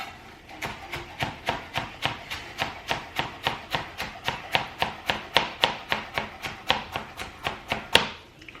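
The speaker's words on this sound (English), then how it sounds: "So for the green onions, you just want to get these minced up. Just you gotta do a basic chop on them." A knife chops green onions on a cutting board with a steady run of about twenty-five crisp, evenly spaced strikes, close and clear. No voices are heard.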